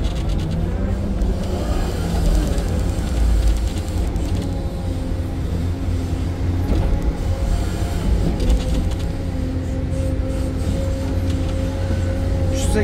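Excavator loading dirt into a truck at a muddy, boggy excavation site: a steady loud diesel engine drone with shifting hydraulic tones, continuous over the whole stretch.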